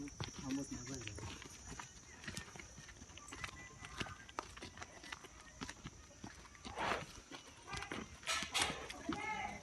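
Racing bullocks' hooves clopping as the animals walk into their shed, irregular hoof knocks with people talking throughout.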